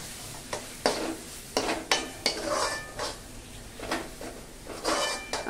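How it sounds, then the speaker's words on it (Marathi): Chole masala spice paste sautéed in oil in a pan, heard as a soft sizzle with periodic scraping strokes of a spatula against the pan at a steady, unhurried rhythm; no talking. "हे बघा, तेल सुटेपर्यंत परतायचं."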